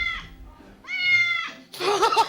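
A cat meows close by: two drawn-out, wavering meows followed by a brighter, rougher cry, each distinct with short pauses between.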